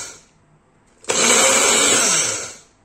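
An electric mixer-grinder whirs loudly for about a second and a half, crushing spices for a carrot, chilli and radish pickle, starting abruptly after a quiet pause and winding down at the end.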